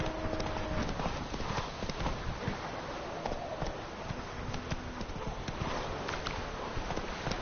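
Roach the horse's hooves clip-clop steadily in The Witcher 3, a continuous rhythmic run of hoofbeats over ambient game sound, with no talk.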